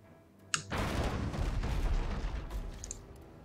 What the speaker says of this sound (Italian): Fire two barrages at the enemy vessel.